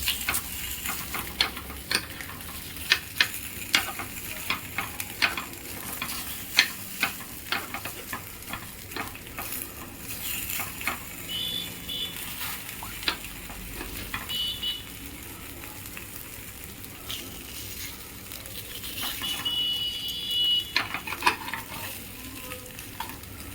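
Rava appe frying in an appe pan, a soft continuous sizzle with scattered sharp ticks and scrapes of turning, close and moderately quiet, with no talking.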